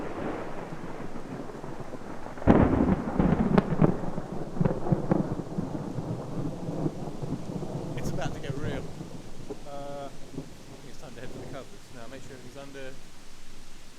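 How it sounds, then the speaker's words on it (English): Thunder rumbles and cracks loudly during a rainy camping trip, a sudden heavy burst that rolls on under steady rain noise, with people talking through the later part. "Yeah, the thunder there."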